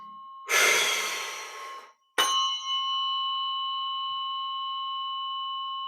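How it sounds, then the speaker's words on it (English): One person takes a slow, deep breath during a guided relaxation exercise. A single long airy breath sounds close, then a bright chime rings out and lingers with a long, steady fade. "We're going to breathe again."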